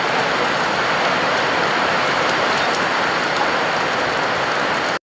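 Rain falls outside a home in a steady, dense hiss that stays loud and even throughout, with no voices.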